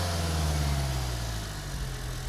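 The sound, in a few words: Hyundai Creta 1.5 litre diesel engine idling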